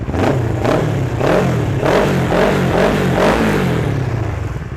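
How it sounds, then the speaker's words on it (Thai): A Kawasaki ER6N motorcycle with a genuine Akrapovic exhaust starts up and idles loudly and close, its deep throbbing exhaust note pulsing in regular rhythmic surges without any voices. "ขออนุญาตทำการสตาร์ทเลยนะครับผม ฟังเสียงท่ออาคาแท้ดิ"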